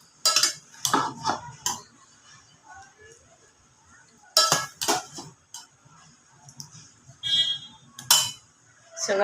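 A metal spoon scrapes and clinks against a pot in short repeated bursts while prawn masala is layered over rice for biryani, with quiet gaps between the scrapes.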